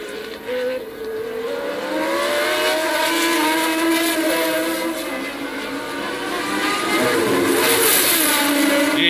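Formula 1 cars at the 1981 Argentine Grand Prix in Buenos Aires, Nelson Piquet's Brabham among them, scream past in a loud continuous engine whine that rises and falls as the cars go by.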